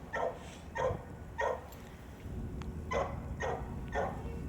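Young puppy giving a series of short, high barks and yips in a steady rhythm, about six close calls with brief pauses between, alone with no talking.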